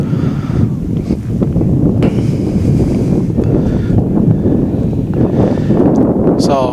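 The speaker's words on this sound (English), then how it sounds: "It's very windy, very cold" Cold wind at an outdoor WABA amateur baseball game buffets the microphone in a constant low roar, with a commentator's voice faintly underneath throughout.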